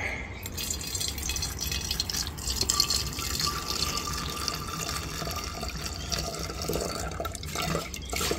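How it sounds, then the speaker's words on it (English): Gold wash solution poured into a beaker, a steady continuous trickle and splash of liquid lasting throughout, close and moderately quiet with no talk. "So I'm going to just pour it into this beaker here,"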